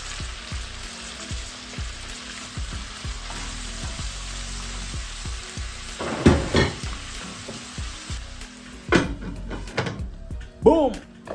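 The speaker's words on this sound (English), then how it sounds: "Fry the capsicums for a few seconds, just a few minutes" Capsicums sizzle and fry in a pan with a steady crackling hiss, broken by a series of rhythmic clicks and a few louder stirring clatters near the end.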